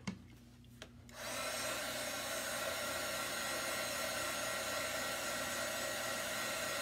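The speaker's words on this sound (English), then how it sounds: "we probably want to give that a little bit of a blast with the heat gun" A heat gun drying chalk paste starts after a couple of soft taps, then blows as a steady, loud, broadband whoosh that holds without change until the end.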